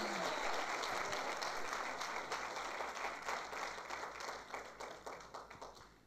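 A church congregation applauds during a Sunday service, a dense, steady wash of many hands clapping that slowly thins and fades over several seconds.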